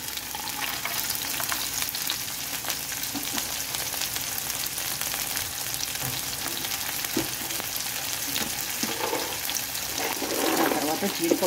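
Ginger pieces and peanuts fry in a pan for rava upma, giving a steady, loud sizzle with occasional stirring scrapes and brighter crackles toward the end.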